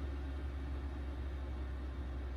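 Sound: 5KW diesel air heater turned down to a lower setting

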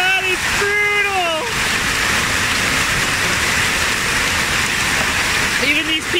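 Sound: heavy hailstorm

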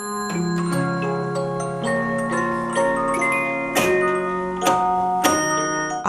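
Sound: early 19th century music recording playback

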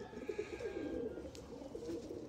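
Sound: pigeon cooing

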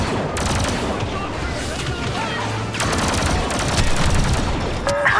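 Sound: blaster gunfire in Star Wars Battlefront II video game

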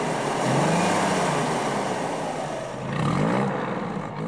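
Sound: first-generation Corvette straight-six cast iron engine

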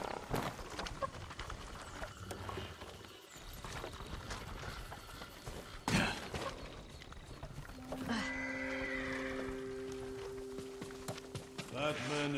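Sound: horses neighing and hooves in video game Ghost of Tsushima

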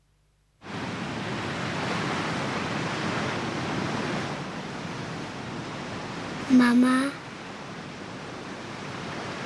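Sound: ocean waves in a TV advert

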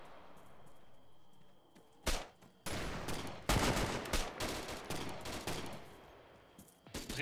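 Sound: shotgun gunfire in video game Arma 3

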